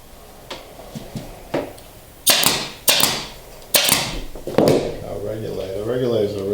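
A staple gun drives staples through upholstery fabric on an ottoman, giving a few soft taps and then four loud, sharp snaps spaced about a second apart.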